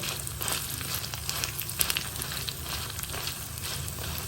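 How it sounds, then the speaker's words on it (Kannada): Chillies frying in a pan over a low gas flame until crisp, a steady close crackling sizzle with scattered pops and light stirring, heard alone without voices. "ಮೆಣಸೆಲ್ಲ ಗರಿ ಗರಿ ಆಗುವವರೆಗೆ ಹುರ್ಕೊಳ್ಳೋಣ"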